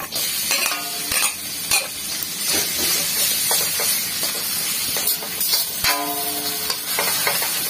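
Garlic sizzling in melted butter in a pan, while shrimp in a salted-egg sauce is prepared: a steady close frying hiss with scraping stir strokes and clinks throughout, no talking.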